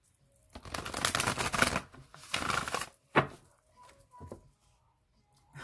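A deck of tarot cards is shuffled by hand in two long riffling bursts, followed by a sharp snap and a few quieter taps and card flicks, close and alone.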